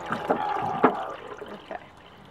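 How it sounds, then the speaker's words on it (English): Dyed water is poured from a container into another vessel for an ombre pillowcase, giving a short liquid splash and trickle with a couple of sharper sloshes, fairly close and moderately loud, with no talking. "the act of pouring all that in actually mixes up the dye stock"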